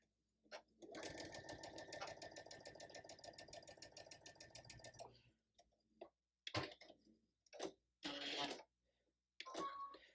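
A sewing machine stitches a fabric seam in one steady, rapid run of about four seconds, followed by short bursts of fabric handling and rustling nearby.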